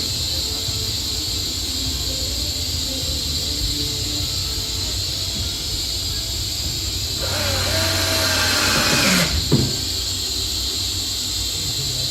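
A power drill briefly whirs as it drives a screw into a frame, a short rising buzz over a constant hum, followed by a small click.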